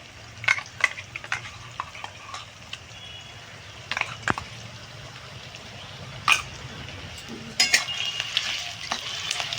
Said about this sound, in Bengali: চলো একটু ভাজা ভাজা হোক পেঁয়াজটা